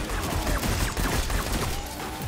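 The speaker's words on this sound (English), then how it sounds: "Everything from the sidearm with that oh so sweet sound" A silenced Veist sidearm fires in Destiny 2, giving a rapid run of muffled, suppressed shots in quick succession that carries through the short clip at steady loudness.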